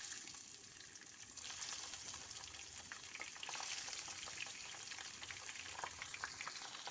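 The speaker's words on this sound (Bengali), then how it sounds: "এখন আমি এগুলো ভালো করে ভেজে দিব" Pabda fish frying in hot mustard oil with a little salt, a steady dense sizzle with scattered crackling pops running continuously at moderate level, no voices.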